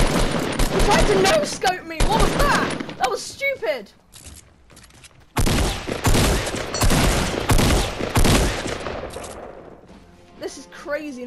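Rapid bursts of gunfire in a Fortnite match, loud and close, come in dense volleys with a short lull in the middle before another long barrage, while a player talks excitedly over the shooting.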